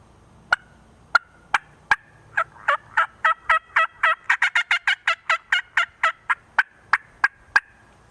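A diamond cutter mouth call imitates turkey hen calls: a fast series of sharp, loud yelps and clucks, starting sparse, then quickening into a dense run before slowing again, close and alone.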